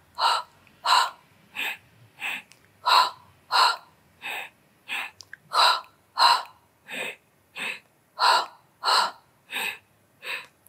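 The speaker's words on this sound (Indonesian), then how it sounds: "tarik nafas inhale, exhale." Heavy rhythmic breathing during an abdominal and hip exercise workout, about seventeen sharp, evenly spaced breaths over roughly ten seconds, close and loud, with no speech.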